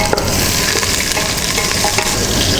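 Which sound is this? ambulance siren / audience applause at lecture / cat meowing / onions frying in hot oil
onions frying in hot oil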